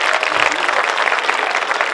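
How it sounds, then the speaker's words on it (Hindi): Dense, steady audience applause fills a crowded open-air mushaira at a Jashn-e-Azadi gathering in Furkaniya Chowk, Govandi, welcoming a fan club. It is loud and continuous for about two seconds with no break. "तालियां बजा के स्वागत कीजिए।"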